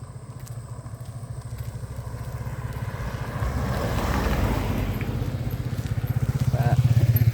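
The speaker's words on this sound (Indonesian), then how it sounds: "Hati-hati ada mobil dan motor." Engine noise from cars and motorcycles passing on a street during a morning walk, a steady low rumble that swells as vehicles draw closer, loudest near the end.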